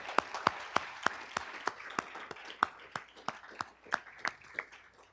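Sparse, individual hand claps at an awards ceremony, a dozen or so distinct slaps in an uneven rhythm, fairly close and quiet, with little crowd noise behind them.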